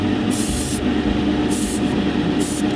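Spray gun laying gloss paint onto a Gundam plastic model, three loud hissing bursts of airbrush spray separated by short pauses over a steady compressor-like hum, close and with no talk.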